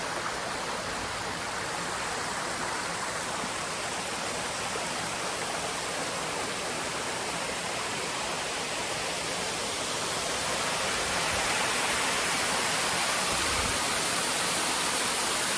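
Water pours over the falls at Lake Katherine in a steady, broad rushing roar, close and continuous without a break, with no voices.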